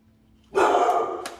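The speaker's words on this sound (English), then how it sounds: "What are you barking at?" A house dog gives a single sharp, loud bark close by after a brief quiet moment, with a slight tail of sound at the end and no talk.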